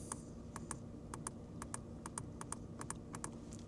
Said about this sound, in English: Everything is so clicky, so nice. I mean, let me just click a few things here.